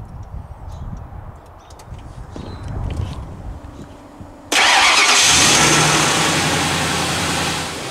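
A van engine cranks and catches after a stretch of quiet rustling and background noise, then settles into a loud, steady rumble at idle, close by.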